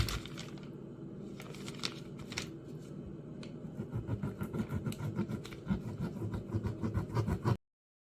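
A knife saws through fat on a pounded steak at close range, quiet scraping and slicing strokes growing into a steady rhythmic cutting that stops abruptly.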